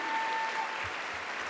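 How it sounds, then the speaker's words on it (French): An audience at a TV series festival closing ceremony claps steadily, a broad, even wash of applause filling the hall with no voices over it. "on peut quand même les applaudir une seconde fois"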